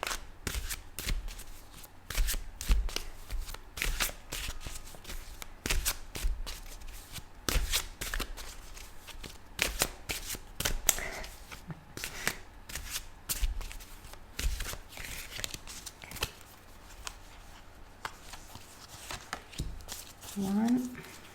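Tarot cards are shuffled continuously in dense, rapid papery riffles and soft slaps, close up, while a voice talks over the handling.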